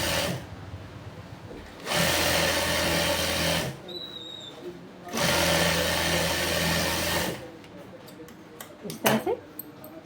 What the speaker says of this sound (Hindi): और बीचों बीच सिलाई मारनी है